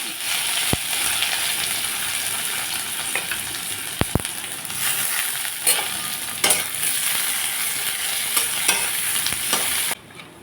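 Chopped onion fries in mustard oil with cumin seeds and bay leaves, giving off a continuous close sizzle with scattered pops and the scrape and clatter of a stirring spoon against the pan.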